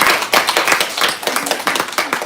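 Church congregation clapping at a Sunday worship service, a dense burst of loud, fast handclaps with rhythmic peaks from a crowd filling the hall, no voices above it.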